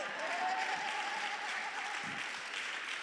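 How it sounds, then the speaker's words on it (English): Dense, steady applause from a summit audience, continuous and even throughout, with a faint tonal hum beneath. "Give her a bigger round of applause."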